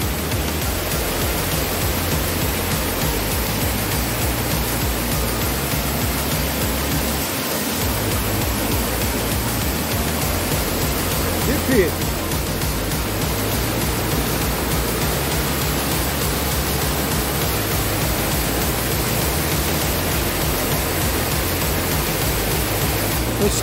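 A waterfall in the Serra do Mar forest gives a steady, loud, broadband rushing roar that continues unbroken for the whole stretch, with no clear voices.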